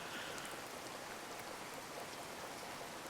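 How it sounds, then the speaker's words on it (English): Steady rain pours down in the survival video game Card Survival: Tropical Island, a dense, even hiss of falling drops and patter on surfaces that continues without pause and with no talk. "Rain! Hey, look! Day 4 rain!"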